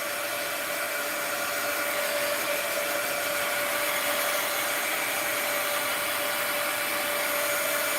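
A hair dryer blowing steadily over a freshly painted art journal page, a constant close whir and rush of air with no break and no talking.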